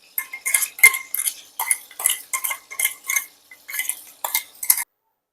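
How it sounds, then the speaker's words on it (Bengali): Chilli paste being scraped out of a grinder jar into a bowl, a close series of quick metallic scrapes and clinks in rhythmic bursts, with silence between strokes and no voices. "আমার পেস্টটা হয়ে গেছে, এরপর এটা আমি বাটিতে ঢেলে নিচ্ছি।"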